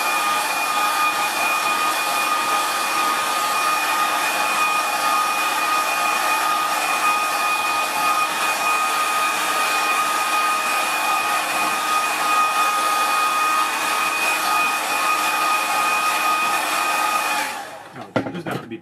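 A hair dryer blows a steady, loud whirring drone over stretched watercolour paper, running without a break for about seventeen seconds before switching off with a brief clatter.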